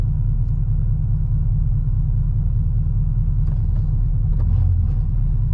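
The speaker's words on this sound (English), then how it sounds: "when you're at an idle, like hearing that exhaust, it's so loud" A modified 2008 Chevrolet Corvette's naturally aspirated V8 exhaust idles with a deep, steady rumble at close range, low and throbbing without revving, with faint faraway background noises.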